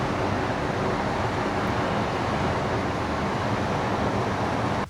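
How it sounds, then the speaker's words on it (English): A broken air conditioning unit on a building across the road gives off a constant broadband roar, steady and unbroken for the whole stretch, heard from a distance with no talking. "there's a building right across the road whose air conditioning unit is broken, and it sounds like this"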